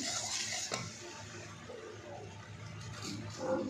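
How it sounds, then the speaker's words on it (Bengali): Date palm jaggery heats in a wok with freshly grated coconut, giving soft scraping stirs and faint sizzling with a light utensil knock, quiet and close. "এবার আমি কড়াইতে একটু খেজুরের গুড় দিয়ে দিয়েছি"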